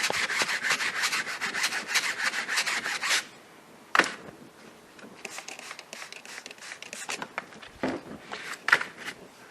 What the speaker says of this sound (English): Soft bristle brush on the vinyl.